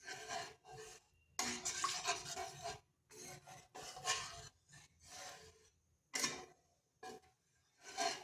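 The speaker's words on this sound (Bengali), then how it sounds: "এরপর সমস্ত উপকরণ ভালো করে এইভাবে নেড়ে নেড়ে মিশিয়ে নিচ্ছি।" Patisapta pitha batter ingredients being stirred together in a bowl, heard as repeated rasping, scraping bursts of a spoon working the mixture, close and fairly quiet, with short pauses between strokes and no voices.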